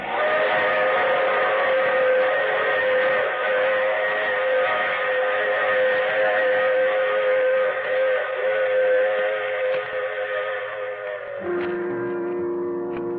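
A long, steady train whistle in an old radio drama blows continuously for several seconds, loud and sustained, with its pitch dropping slightly near the end.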